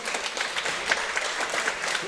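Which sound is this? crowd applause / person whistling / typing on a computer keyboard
crowd applause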